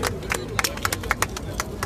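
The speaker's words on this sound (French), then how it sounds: "Applaudissez, chers invités." An audience at an RHDP political support rally in France claps, a burst of close, sharp, irregular applause over a low crowd murmur.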